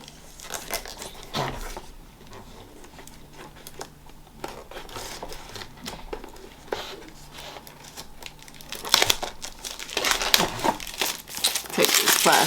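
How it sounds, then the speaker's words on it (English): Plastic wrapping is crinkled and torn off a lipstick from a subscription box, a close, continuous rustling and crackling that grows louder and busier toward the end. "Take this plastic off though."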